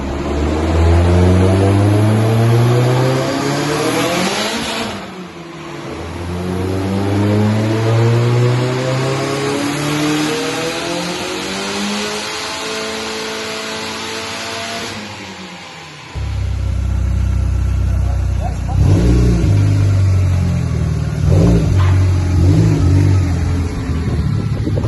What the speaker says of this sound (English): Got a tasty little Mark II Golf 180 just turning up